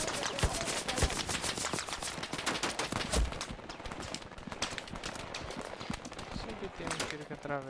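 Rapid bursts of video game gunfire crackle throughout, dense and sharp, with occasional heavier shots over a busy background.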